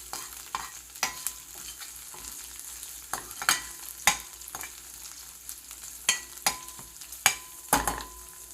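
Chopped onion fries in a pan with a soft, steady sizzle. A spatula strikes and scrapes the pan in sharp, irregular clacks about once a second, with no talking.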